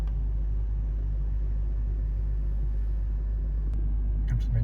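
A 2.4 i-VTEC engine in a Honda Accord EX saloon idles steadily, a constant low rumble heard from inside the car with a brief click near the end.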